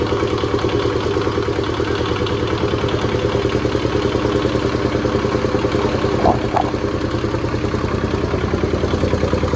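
A Kubota T1600 diesel engine, first run in years, idles loud and close with a rapid, even knocking chug and rattly clatter, a brief sharper clank briefly breaking the steady beat partway through.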